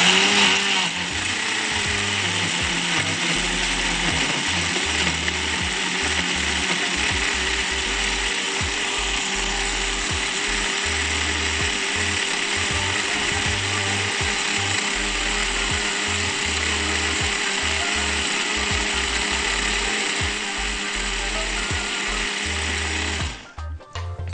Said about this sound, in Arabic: انا ضفت شويه لبن هضيف شويه كمان وهضرب الكلام ده كله مع بعضه